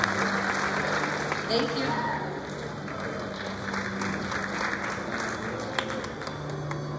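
Steady applause from the audience at an elementary school fifth grade ceremony, with a continuous spread of many clapping hands and a brief spoken thanks over it.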